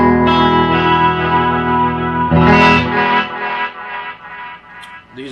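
Electric guitar through an Echo Rec echo pedal into a Vox amp, sustained distorted chords with repeating echoes trailing and fading, loud and close with no talk.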